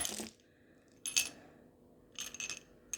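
A few small dice, among them a four-sided die, clatter onto a floor in separate bursts of sharp clicks and ticks, fairly close and alone with no talk.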